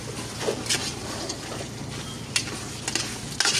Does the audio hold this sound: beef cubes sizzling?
yes